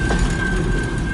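Boxcars of a long CN eastbound mixed freight train roll past at close range in Port Huron, Michigan, a steady loud rumble of wheels on rail with a faint squeal, no talking.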